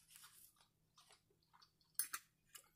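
Chewing on overcooked broccoli during a snow crab mukbang, close soft chomps and mouth sounds in irregular bursts, with one sharper crunchy bite near the end, alone and without talk.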